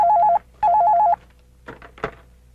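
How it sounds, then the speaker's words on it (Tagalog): An old-style telephone rings indoors in two loud warbling bursts, followed by a short pause and then faint shuffling and clattering sounds. "Jessica, telepono"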